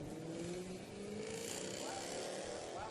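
Race cars circling the asphalt oval at New Smyrna Speedway during a night of World Series of Asphalt racing, a steady loud engine roar with shifting pitch and no break, heard from close range.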